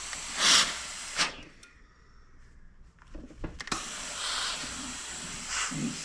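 A steam iron pressing a quilt seam, giving sharp bursts of hissing steam, with a quieter stretch between them and soft handling noises and thumps on the ironing surface.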